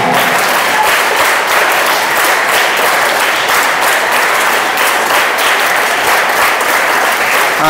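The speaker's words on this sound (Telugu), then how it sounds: "ఇప్పుడు మీరు ఇప్పటివరకు క్లాప్స్ చాలా చక్కగా కొట్టారు" Loud, sustained applause from a large group of schoolchildren at a school first aid awareness programme, with rapid, crowded hand claps running for nearly eight seconds and little talking underneath.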